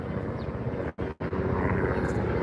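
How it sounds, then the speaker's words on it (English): A helicopter flies overhead on a morning in Durban, a continuous rotor and engine drone close by with a brief dip, no talking. "A helicopter coming through this shop."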